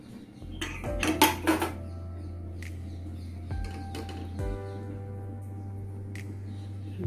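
Lid of a pressure cooker being opened after cooking rajma, with loud clattering metallic clanks and scrapes close by, then a lighter tap and a steady low hum from the kitchen.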